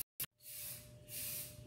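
A spray can hisses in long, steady bursts while a coffee table is spray painted, after a brief click and short blast, close and fairly quiet.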